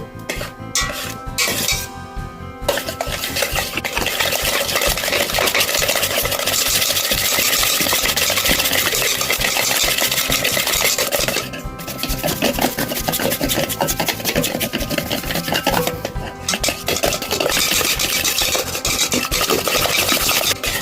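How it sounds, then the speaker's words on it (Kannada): Butter being beaten in a bowl with an electric mixer for a muskmelon cake batter: a constant motor whir with scraping and rattling against the bowl, loud and steady, pausing briefly twice before resuming. "ನೋಡ್ಬೋದು ಇಲ್ಲಿ ಬಟರ್ ಬೀಟ್ ಆಗ್ತಾ ಬರ್ತುಂಟು"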